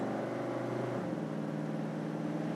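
Steady engine drone from a 1968 Chevrolet Chevelle SS big block while driving, with the pitch dropping about a second in as the transmission shifts gear, then settling into a lower even hum throughout.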